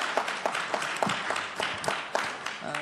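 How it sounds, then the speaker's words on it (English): Audience applause for panelists at the close of a panel event, a sparse crowd clapping with distinct individual claps standing out, moderately loud and steady throughout. "Let's also give a round of applause to our panelists"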